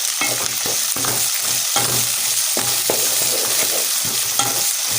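Onions frying for tuvar dal sambar, a loud continuous sizzle with regular rhythmic scraping stirs of a spoon against the pan, close and dense with no voices.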